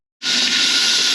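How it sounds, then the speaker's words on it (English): Tap water pouring into a portable washing machine to refill it: it cuts in abruptly and becomes a loud, steady hissing rush that continues to the end. "when it's done draining, you fill it up all over again."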